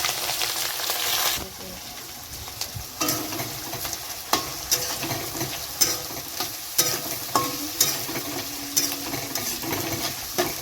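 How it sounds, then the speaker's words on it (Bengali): Chilli, garlic and cumin crackle in hot oil before chopped ginger, green chilli and onion go in, producing a loud, continuous sizzle broken by repeated clinking stirs of a spatula against the pan. "লঙ্কা রসুন আর জিরে দিয়ে দিচ্ছি ফোড়ন আর এখানে দিচ্ছি সব কুচানো আদা কুচানো কাঁচা লঙ্কা পেঁয়াজ কুচানো সব"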